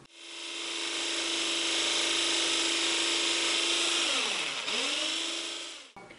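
Electric mixer whirring steadily as it beats egg whites in a bowl, a loud continuous buzzing drone that dips in pitch near the end before shutting off.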